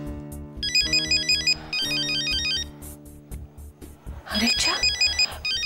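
A mobile phone rings with an incoming call, its repeating electronic ringtone melody loud and close, cycling in regular bursts with a brief spoken interjection near the start.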